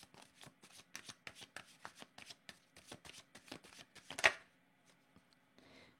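Tarot cards being shuffled by hand in a run of quick, crisp riffling bursts, steady and close, ending in a sharper slap before brief quiet and a soft final shuffle.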